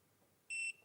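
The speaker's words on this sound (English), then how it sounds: "you'll hear a beep" A Munbyn label printer gives a single short, bright electronic beep while its reset button is held down, clear and close after a near-silent pause.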